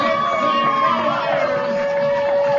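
Minor league baseball crowd cheering after a 4-0 playoff win, a steady wash of distant crowd noise with a whistle-like tone running through it.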